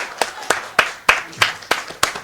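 Seven sharp hand claps in a courtroom after a conviction is vacated, in a steady, slightly slow rhythm, close and distinct, each with a brief ringing tail.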